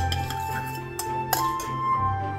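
A whisk or spoon beats fermented rice pancake batter in a bowl, making quick, light scraping strokes with soft clinks against the bowl, close and fairly quiet.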